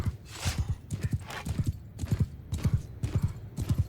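Rhythmic hoofbeats of galloping horses in the video game Mount & Blade II: Bannerlord pound in repeated clusters, steady and close, with no voices over them.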